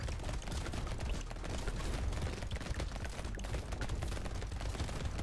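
Turrets firing guns in Brotato at danger level 5, a dense, continuous rattle of rapid overlapping shots with no pauses.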